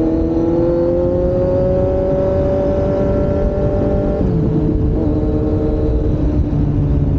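A Kawasaki Z900 motorcycle rides off with a loud, close engine roar, its rising harmonic whine climbing steadily before a gear change drops the pitch around midway, then pulling on.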